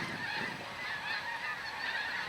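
Several geese honk repeatedly overhead, their calls overlapping in a fairly faint, steady chorus with no voices.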